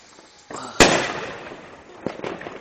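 Memorial firework rockets burst on New Year's Eve, one sharp loud bang followed by a rolling rumble and scattered crackling pops in the distance, with people talking around them.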